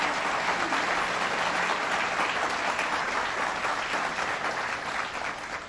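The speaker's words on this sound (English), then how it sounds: "Let's give her a round of applause." An audience at a New York State budget event in Western New York claps steadily, a dense, even burst of applause that holds for several seconds and fades slightly at the end.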